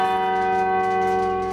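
Repaired church clock bells at St Catherine's chime close by, a sustained ringing strike with long humming overtones and no voices.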